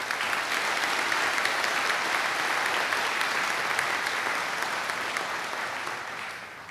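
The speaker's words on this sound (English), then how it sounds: "maybe you could give all those folks a round of applause" Graduation ceremony crowd giving a round of applause, a thick, even wash of many hands clapping at once, holding steady and loud before tapering slightly at the end.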